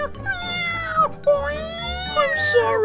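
A cartoon cat meows repeatedly in high, drawn-out, wavering cries, loud and close, with a brief squeaky burst near the end.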